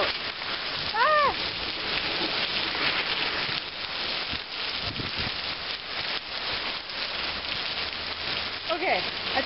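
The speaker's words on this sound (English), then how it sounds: "That's all hail!" Hail pelting down outdoors in Minnesota as a dense, steady roar of rattling impacts that runs throughout, with excited shouting voices over it.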